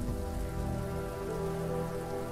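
Steady, soft rain patters continuously in the There Is No Game video game, an even wash of falling drops with no voices and no breaks.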